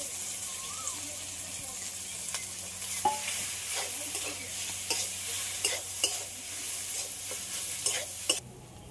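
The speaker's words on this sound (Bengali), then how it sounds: "এবার গ্রেট করে রাখা আলু আর কলাটা দিয়ে দেবো।" Grated potato and banana sizzle and are stirred with fried spices in a pan for pakora, a steady close frying hiss broken by scraping spatula strokes and occasional clinks.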